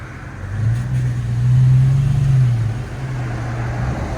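A 2003 Toyota Tundra with a 4.7L engine and a Borla ProXS exhaust gives off a deep, smooth low drone that swells into a rev, peaks, then settles back to a steady idle rumble, heard close up with no talk.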